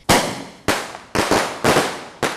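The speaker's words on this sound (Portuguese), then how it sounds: "E demonstra como utilizar de forma correta os rojões." Rojão skyrocket fireworks go off in a demonstration, five sharp loud bangs in quick succession, each with a short decaying tail, with no voices.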